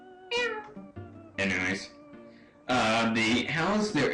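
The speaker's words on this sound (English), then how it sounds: "Oh, a kitty!" Cat meows from the Earthbound video game, several short tonal meows in a row at a moderate level, with a voice speaking over part of the sequence.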